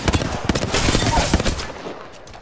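Rapid video game gunfire rattles in a quick, rhythmic string of close, punchy shots, then fades away toward the end.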